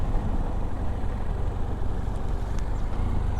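BMW F800GS motorcycle ridden over a cobblestone street, a steady low engine drone with constant road rumble throughout, fairly loud and close, no voices.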